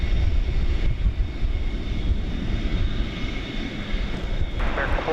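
A Boeing 727 jet roars loudly and steadily during takeoff at DFW Airport, a dense continuous engine rumble that holds throughout, with a faint brief sound near the end.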